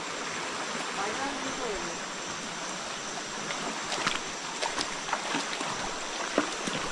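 Rain-swollen stream water rushes and burbles in a steady outdoor wash, with a few splashy knocks near the end.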